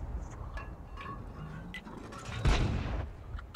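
Tank cannon firing in the World of Tanks Frontline mode: one loud, close blast lands partway through, with a brief rumbling tail over steady background game noise and faint ticking.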